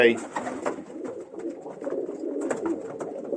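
Pigeons cooing in a loft at night, soft repeated low coos close by, mixed with rustling and faint movement.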